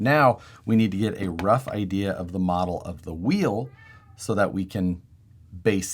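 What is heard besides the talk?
cat meowing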